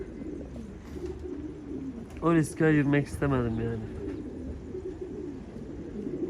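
Pigeons cooing nearby in a rooftop loft with other birds, a short run of rolling coos in the middle over low background noise, with someone talking throughout.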